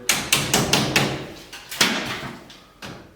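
Plastering bead is stapled onto a wall, giving a close, loud series of sharp thumping stapler shots, about nine in quick uneven succession, each followed by a brief decaying ring.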